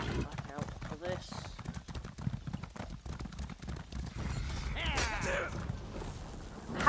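Horse hooves clop in The Elder Scrolls Online as a mount trots along, a steady run of soft hoof beats underneath near, continuous talking.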